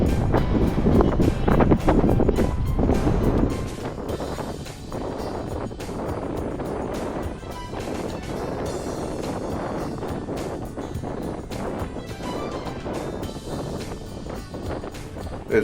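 Strong wind gusting at a campsite, buffeting the microphone with loud rumbling bursts at first, then settling into a steadier blowing roar.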